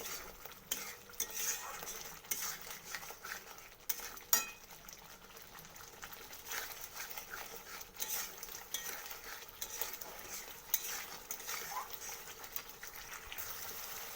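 Katla fish curry stir-fried in a pan, a soft continuous sizzle under quiet repeated scraping and occasional clinks of a spatula, fairly faint throughout.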